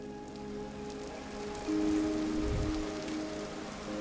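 Steady rain patters across surfaces in the game Vintage Story, a constant soft hiss with a faint hum underneath and no talk.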